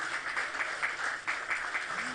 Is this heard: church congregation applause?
yes